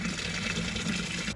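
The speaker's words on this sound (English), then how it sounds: "All you need is some really warm water" Really warm water pouring and filling a container, a steady close gushing rush with no breaks, fairly quiet overall.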